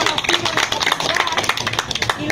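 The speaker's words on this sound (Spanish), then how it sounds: "Aplausos fuerte." Loud clapping from a crowd at a community meeting in the northern zone, dense and continuous for a couple of seconds, with voices mixed into the applause.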